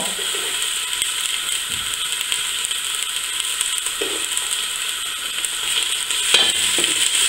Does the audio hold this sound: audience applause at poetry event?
no